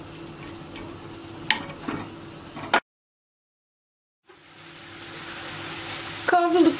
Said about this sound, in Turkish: Kıymaların rengi dönene kadar kavuracağım.